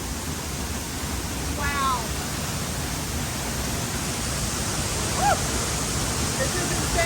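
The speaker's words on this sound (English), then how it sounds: "This is by far the best waterfall we've ever been to." Dry Falls waterfall roars as a steady, dense wash of falling water, loud and unbroken throughout, with a couple of brief faint voices or calls poking through the rush.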